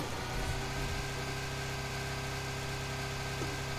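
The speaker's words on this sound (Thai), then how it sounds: "ยานมาแล้วยานมา ไปชนแล้วนะรถ" A vehicle engine in the PUBG video game hums steadily at a quiet, even level, a continuous idling drone with faint tonal whine and no voices.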